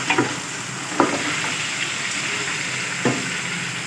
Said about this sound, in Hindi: गोश्त को भी अच्छी तरह फ्राई कर लेंगे